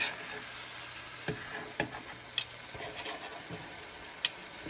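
Salted livers fry in a pan with a constant soft hiss and sizzle, broken by occasional small pops and spoon clicks, fairly quiet and close.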